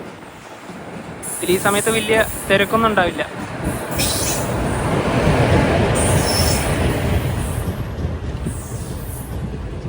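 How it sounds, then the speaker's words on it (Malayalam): The Ernad Express, Thiruvananthapuram to Mangaluru, rolls into a station platform with a building rumble and wheel squeal, passing close and loud while someone talks over the approach. "പോകാനുള്ള ട്രെയിൻ ഇതാ കടന്നു വരികയാണ്."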